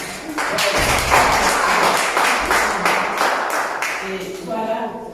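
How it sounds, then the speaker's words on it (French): Audience applauding during a testimony session, dense continuous clapping at close range throughout, with a few voices mixed in toward the end. "On peut applaudir"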